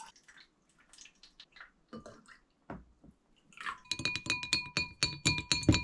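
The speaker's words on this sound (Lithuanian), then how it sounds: "Pilu vandens." Water poured into a drinking glass: a few scattered clinks and drips, then a quick burst of bright, ringing, gurgling pulses as the stream fills the glass, close and fairly loud.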